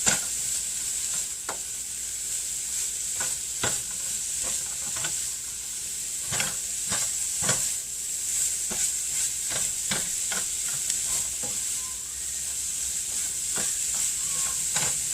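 A spatula scrapes and clatters in a pan, stirring broccoli, snow peas, carrots and red cabbage into roasted vegetables. A steady hiss of sizzling runs underneath the irregular close knocks, with no talking.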